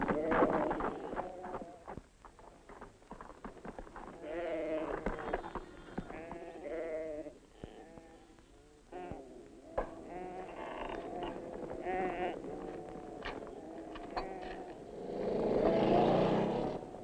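Flock of sheep in Australia bleating repeatedly at moderate distance, a chorus of overlapping calls running under someone narrating, with a rushing noise near the end.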